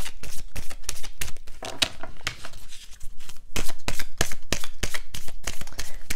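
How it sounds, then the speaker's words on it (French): Oracle cards being shuffled and drawn by hand, a rapid string of crisp riffling snaps and papery flutters, close and fairly loud, with brief pauses between bursts and no talking. "on va aller se prendre 3 cartes avec l'oracle des miroirs"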